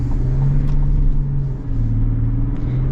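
The diesel engine of a 2026 Chevy Silverado 1500 LT rumbles loudly and close, with its steady low drone rising and settling in pitch as it revs.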